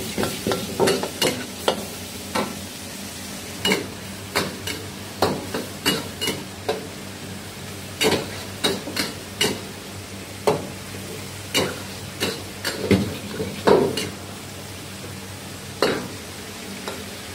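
Vegetables stir-fry in a hot pan with salt, sugar, white pepper, soy sauce and Maggi sauce for quick noodles. They sizzle steadily under a regular rhythm of sharp spatula scrapes and clacks against the pan, close up, with no talking.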